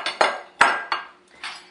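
Metal utensils clink and scrape against a mixing bowl as vegetable shortening goes in with the dry ingredients for a pie crust, about five sharp close taps in a quick uneven rhythm with no talking.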